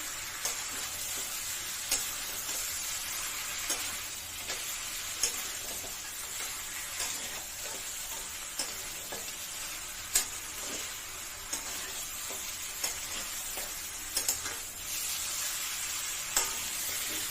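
Chital fish bones frying in spice paste, a constant bright sizzle with regular light scrapes and taps of stirring, close up and uninterrupted by talk.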